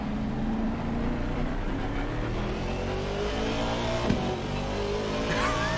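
Onboard a BMW race car at Snetterton circuit, the engine holds a steady loud drone with rising pitch as it accelerates along the track, one brief knock midway, no talk.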